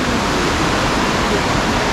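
The Sindh river flowing behind a roadside cafe on the way to Sonmarg rushes as a loud, constant broadband roar of fast water, close and unbroken.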